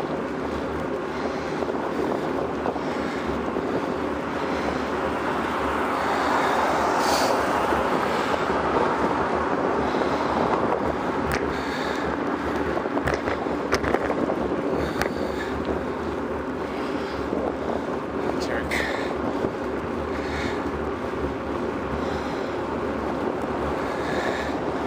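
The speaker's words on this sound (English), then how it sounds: "Windy." Wind roars and buffets steadily during an outdoor commute, a continuous broadband rush with a low rumble beneath it, swelling slightly midway and never dropping away.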